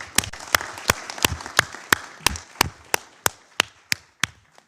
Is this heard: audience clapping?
yes